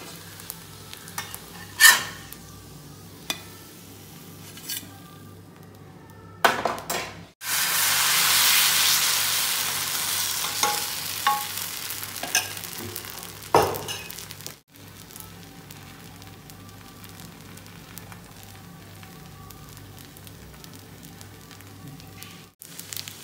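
A sweet dosa frying in a pan sizzles softly and steadily nearby, broken by scattered spatula scrapes and taps and a loud burst of hissing steam for several seconds, with no talking.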